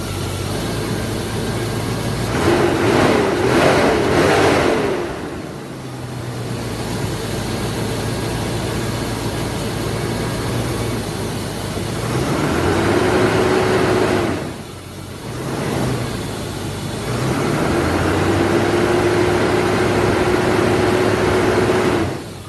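Land Rover Discovery engine running after a coil pack change, a low steady hum with several rises and dips in pitch as it revs and settles.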